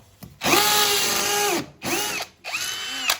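A hammer drill runs loud and close in three bursts: one long, steady run followed by two shorter ones, with no one speaking.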